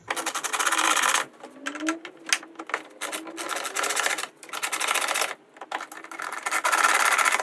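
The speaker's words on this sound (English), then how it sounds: "Get a couple of those Torx screws started." Torx screws are driven into the air filter cover of a Mercedes GLB 250, giving a close, rough, whirring mechanical rasp that starts and stops in uneven bursts with brief pauses between them.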